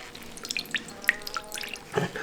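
Water dripping from squeezed onion puree into a bowl in a kitchen, a quick run of small, close, irregular plinks and trickles.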